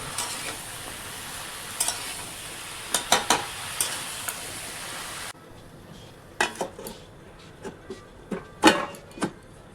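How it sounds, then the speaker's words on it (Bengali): Vegetables are stirred with spices in a pan on a gas stove for a fish-bone curry, giving sharp scraping and clinking strokes of a utensil against metal over a low sizzle that drops quieter partway through. "এরপর সবজিগুলো ভালো করে মশলার সঙ্গে মিশিয়ে নিয়ে তারপর ঢাকা দিয়ে রাখবো কিছুক্ষণের জন্য, গ্যাসটা কমিয়ে"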